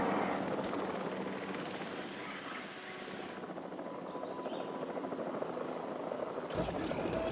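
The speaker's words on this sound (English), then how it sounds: "Now release via airlift." Helicopter rotor drone during an airlift release of dinosaurs in the Jurassic World video game, a steady loud whirring that fills the whole stretch and changes tone partway through, with no talking.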